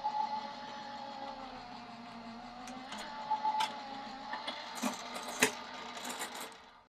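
A die cut machine rolls cardstock card pieces through its plates, giving a steady mechanical whir with layered hum and a few sharper clicks and knocks toward the end, close and moderately loud with no talking.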